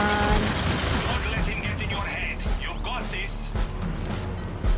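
Gunfire in the zombie shooter Zombie Army 4: Dead War, several overlapping volleys of shots and mechanical clatter at moderate level, with a voice talking over the busy game mix.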